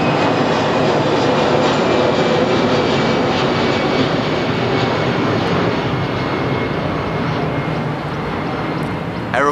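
A steady, loud engine roar of an airplane passing overhead, broadband and continuous for the whole stretch, with no voices.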